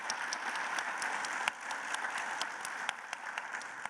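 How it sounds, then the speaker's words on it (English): A business talk audience gives a round of applause for a CEO on stage. The clapping is steady and moderately distant, with a few sharper individual claps standing out. "I'd like to have a round of applause for one of the greatest CEOs in the world, this man."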